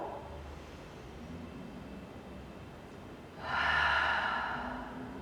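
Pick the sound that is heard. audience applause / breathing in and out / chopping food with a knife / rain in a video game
breathing in and out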